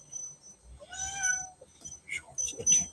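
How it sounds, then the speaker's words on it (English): An outdoor cat, a mother with two new kittens, gives a drawn-out meow followed by a couple of shorter, rougher cries, close by and fairly quiet with a few faint background noises between calls. "Outdoor cat."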